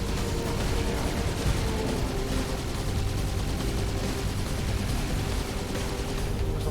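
Dense gunfire fills a Halo 2 battle, rapid overlapping automatic bursts and blasts roaring continuously at high level, with distant rumbling underneath and no clear break in the shooting.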